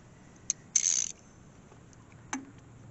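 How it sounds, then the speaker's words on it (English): A regular hand ratchet turning a bolt on the starter of a 2000 series Long tractor, giving a few quiet, brief clicking and whirring bursts close by, with no talk. "I might be able to get this regular ratchet in there"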